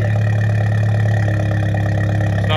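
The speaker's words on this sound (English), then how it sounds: "It obviously is actually idling better." A turbocharged MK7 car engine idles steadily with a low, even rumble that holds constant throughout.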